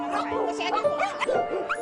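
Rescued stray dogs in rural China bark and yip in a quick, overlapping jumble, several animals calling at once at close range in a short burst.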